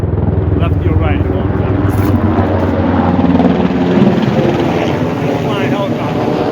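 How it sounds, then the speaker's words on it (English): A helicopter flies close by, a loud continuous rotor drone with a steady low throb and wind buffeting, holding at the same level for several seconds. "Flying helicopter."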